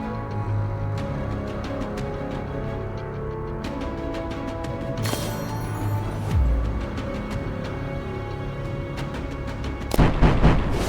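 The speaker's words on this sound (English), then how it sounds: "Lots of movement. Lots of shooty things. Lots of explosions." Gunfire and explosions from the tactical turn-based video game Tactical Breach Wizards: a dense run of sharp shots and booms over a steady game backdrop, with a deep heavy blast near the middle and another loud burst near the end.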